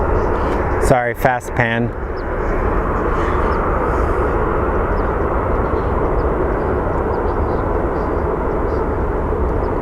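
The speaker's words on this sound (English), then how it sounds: "He took off pretty quickly, rapidly. Not bad for a small plane." A small plane climbs away after takeoff from Phoenix Sky Harbor, a steady broadband engine drone heard up close that persists throughout, with someone speaking briefly near the start.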